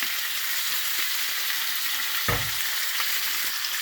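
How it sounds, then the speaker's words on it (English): Food frying and being stirred in extra virgin olive oil in a pan, a steady bright sizzle throughout with a few soft scrapes and one clunk of the utensil, no talking. "stir that around for about 6-7 minutes. A little more extra virgin olive oil on the top."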